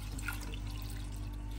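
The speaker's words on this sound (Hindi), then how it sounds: "पानी डाल के" Faint, continuous trickle of water being poured into a pan holding tamarind and dried plums for chutney, heard alone at low level.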